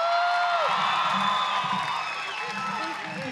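A Brazilian crowd cheers at an X Games skateboarding contest, a loud, sustained roar of many voices that stays close and full throughout, with scattered shouts rising out of it.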